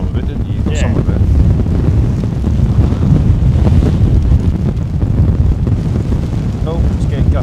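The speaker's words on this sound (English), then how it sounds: "Oh, it's getting gusty now." Gusty storm wind during Storm Bert at Gatwick Airport buffets the microphone in loud, continuous roaring rushes that swell and fade.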